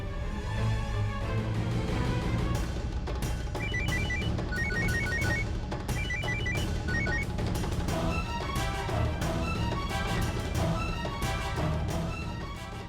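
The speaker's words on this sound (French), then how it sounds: "Pourquoi est-ce qu'il ne répond pas au téléphone?" A telephone rings repeatedly and goes unanswered, its electronic ringing pattern loud and close over a dense background of music and other sound.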